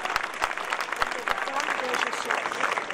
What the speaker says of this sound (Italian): Chiederei anche un applauso per lui